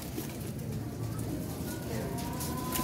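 Pet pigeons kept by a hobbyist coo softly in a low, repeated, throaty burble, close by against a quiet background hiss.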